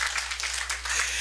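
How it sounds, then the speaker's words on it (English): A burst of loud, close applause from a community meeting audience, continuous clapping running the whole short moment over a steady low hum. "y'all gave Zanino a loud applause"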